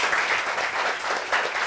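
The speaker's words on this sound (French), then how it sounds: "Applaudissements." Steady audience applause from a reality-TV talk show crowd fills the whole stretch, a dense patter of many hands clapping at even loudness with no voices over it.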